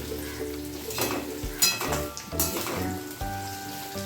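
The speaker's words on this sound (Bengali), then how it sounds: "নারকেলটা আমি দিয়ে দিলাম দিয়ে ভাজা ভাজা হবে একটু ব্রাউন হবে" Grated coconut frying in a pan for taro greens, a steady sizzle with scraping stir strokes and occasional pan clinks, close and continuous, with background music-like tones.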